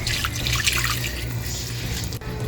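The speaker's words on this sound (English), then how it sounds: "We're gonna take our marinade and pour it over," Teriyaki marinade is poured over food in a kitchen, giving a continuous close liquid splash and trickle that runs steadily for a couple of seconds before cutting off abruptly.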